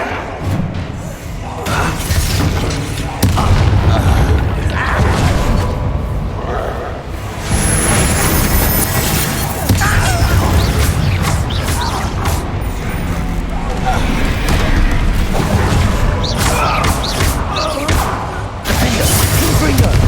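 Confringo and Bombarda spell blasts in Hogwarts Legacy combat, a dense run of thuds, crashes and whooshing impacts rolling on continuously at high volume, with a voice talking over the action.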